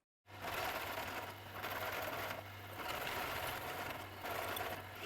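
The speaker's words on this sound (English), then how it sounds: "This new setting block was cut to shape using my Strassman style roughing cutter." Milling machine running a Strassman-style roughing cutter through a metal setting block, a steady buzzing machine whine with a low motor hum, rising and easing in rhythmic passes, close and without talk.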